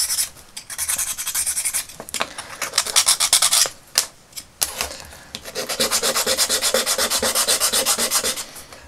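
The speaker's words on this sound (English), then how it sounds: "this is a nail file, so something you'd actually file your nails with. Works really well just for sort of softening the edges" A nail file rasps back and forth over the edges of a plastic toy X-wing canopy, rapid close scratchy strokes in bursts with short pauses between them.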